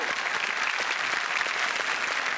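Audience at a film event applauding the movie's writer as she is welcomed to the stage, a dense, even burst of many hands clapping close and continuous.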